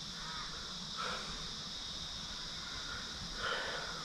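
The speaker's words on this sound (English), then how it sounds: "And the crows and shit around." Crows caw twice, distant and faint, over a steady outdoor hiss in hunting country.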